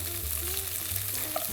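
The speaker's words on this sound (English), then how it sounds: "by just pan frying them like this" Buffalo tofu pan-frying sizzles steadily in a hot pan, a close, continuous crackle with no talking.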